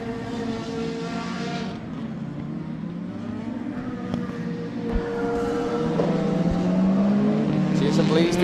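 Rallycross race cars at Mondello Park roar past one after another, their engines swelling and fading as they accelerate by, with a voice talking faintly beneath the engine noise.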